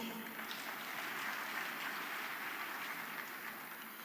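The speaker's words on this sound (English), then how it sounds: "I think this deserves another round of applause." A full-house panel audience at a digital-era event claps continuously, a soft, even wash of applause heard from a distance and fairly faint throughout.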